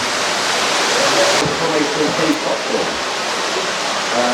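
Underground stream rushing through a passage in Cody Caves, a steady, dense wash of flowing water echoing close by, continuous and loud with no pauses.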